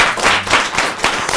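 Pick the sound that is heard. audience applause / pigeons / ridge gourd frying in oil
audience applause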